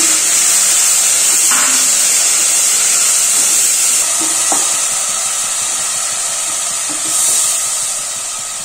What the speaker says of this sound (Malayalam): ഈ സവാളയിലത്തെ വെള്ളമൊന്ന് വറ്റി നന്നായിട്ടൊന്ന് ഒന്ന് ബ്രൗൺ ഷെയ്ഡ് ആവുന്ന വരെ വഴറ്റി കൊടുക്കണം